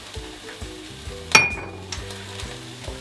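Cumin and dried coriander fry in a pan for chilli con carne, giving a low steady sizzle with a few stirring scrapes and one sharp metallic clink near the middle.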